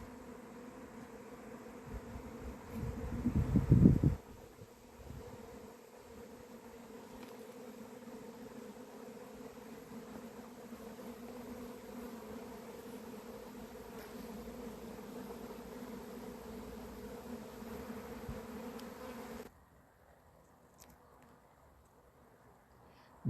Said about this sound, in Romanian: roiul s-a liniștit